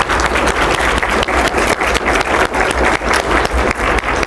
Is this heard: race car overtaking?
no